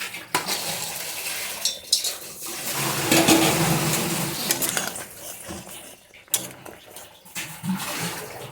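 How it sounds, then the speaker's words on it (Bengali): Fritters go into a pan of boiling curry. Metal utensils clink and scrape against the pan, there is stirring, and the bubbling sauce simmers between the knocks. The sounds are close and uneven. "যে ঝোলটা ফুটে উঠেছে, এখন আমি বড়াগুলি দিয়ে দিচ্ছি।"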